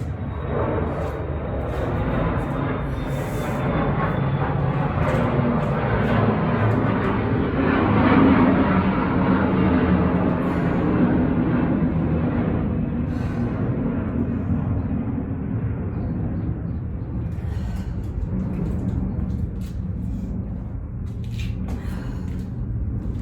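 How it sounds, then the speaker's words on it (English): An airplane passes overhead with a steady, broad roar that swells and slowly fades, heard alone for over twenty seconds, with a few faint knocks and clatters nearby. "the plane's going over"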